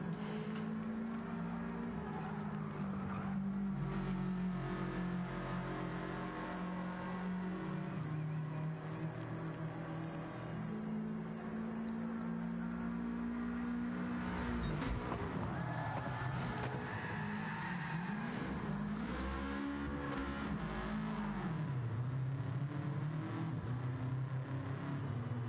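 TCR touring race cars circle the Autopolis short track, engines droning loud and steady with shifting pitch as they rise through the gears and sweep past, plus occasional tyre noise, and no voices over the noise.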